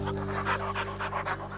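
A dog pants steadily and close by in a series of quick, rhythmic breaths, with a constant low electrical hum running beneath.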